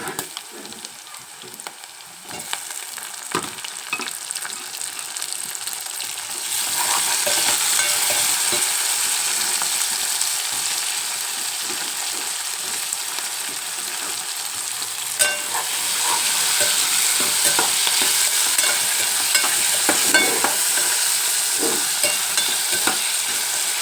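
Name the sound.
tomatoes frying and being stirred with browned onions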